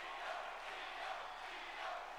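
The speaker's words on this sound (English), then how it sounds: "crowd behind Io here" Wrestling arena crowd in WWE 2K25 cheering and shouting, a faint, steady wash of massed voices that swells slightly in waves, with no talk over it.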